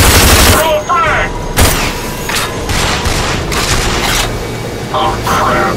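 Frag grenade blast and gunfire in the video game Rage: loud sharp bursts and cracks of rapid shooting, with a heavy boom near the start, while people shout and talk over the din.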